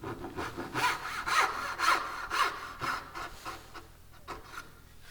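Hand saw cutting wood in a steady rhythm of about eight rasping strokes, close and clear, tapering off and slowing toward the end.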